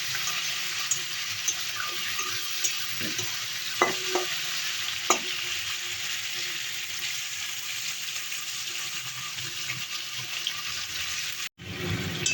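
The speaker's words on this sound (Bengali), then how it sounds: "এর মধ্যে ভেজে নেওয়ার জন্য দিয়ে দেবো চিংড়ি মাছ। চিংড়ি মাছগুলো লাল লাল করে ভেজে নেব।" Shrimp fry in a pan for kumro dogar chochori, making a steady, close sizzle with a few light clinks of a utensil and a brief dropout near the end.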